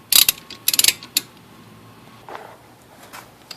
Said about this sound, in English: we're going to take the 12 millimeter on top for the top and bottom caliper bolts, and we'll get those loosened